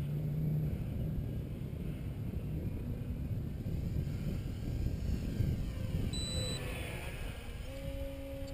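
A brushless electric-powered Piper Super Cub model plane flies nearby with a steady, continuous motor whine and wind noise, holding fairly even loudness throughout, with a few brief tonal rises near the end.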